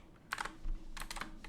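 Someone types on a computer keyboard, entering a long URL while coding a project that uses a Redis database; two short bursts of close, crisp keystrokes with a brief pause between them.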